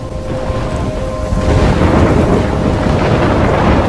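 A video game storm in Life Is Strange, with loud continuous rumbling thunder, rain and wind roaring steadily and swelling midway, close and dense with no talk.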